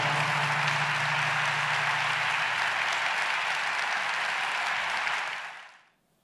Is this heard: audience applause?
yes